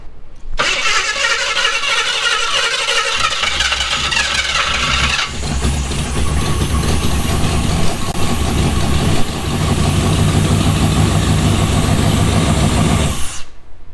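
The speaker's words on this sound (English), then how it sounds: "We got a really wicked 7-cylinder." A seven-cylinder off-road engine running with one dead cylinder, loud and close, a rough uneven roar that shifts character partway through and carries on steadily until it cuts off near the end.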